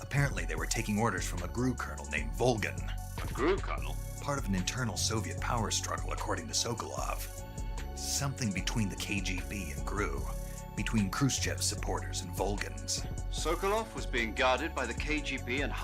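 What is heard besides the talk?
None of the usual background noises is heard.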